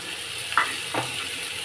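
Vegetables with turmeric and salt sautéing in a pan: a quiet, steady frying hiss with a couple of brief stirring scrapes of a spoon, close and without talk.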